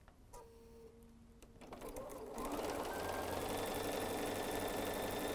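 Sewing machine stitching a quilt, starting quietly with a few clicks and then running into a steady, loud, continuous mechanical whir that holds to the end.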